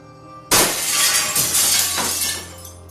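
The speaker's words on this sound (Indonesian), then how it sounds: "Ada suara gelas jatuh dari arah dapur." A glass drops and shatters on a marble kitchen counter in the small hours, one sudden loud crash followed by a bright spray of tinkling shards that keeps ringing for a couple of seconds, with no voices.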